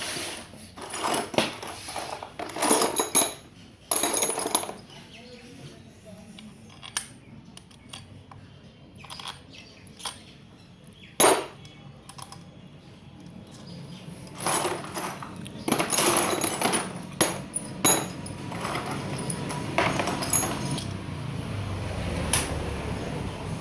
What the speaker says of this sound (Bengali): লাটগুলো লাগাই দিচ্ছি, 2-3টা লাট লাগাই দেবো আপাতত